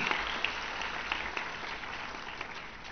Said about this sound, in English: please give them the big round of applause for these girls